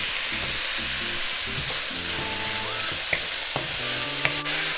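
Vegetables and onion stir-frying in a hot pan for pork lo mein give a steady, loud sizzle with stirring and scraping throughout, and tonal sounds run underneath.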